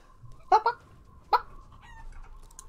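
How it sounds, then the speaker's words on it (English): Chickens in Resident Evil Village, with two or three short clucks close by over quiet background noise. "Ooh, a place for chickens!"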